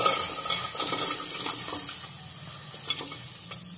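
Soaked sago pearls tumble into a pot on a stove, giving a brief wet patter and stirring scrape, followed by a steady faint sizzle and hiss with a few light clinks, no voices.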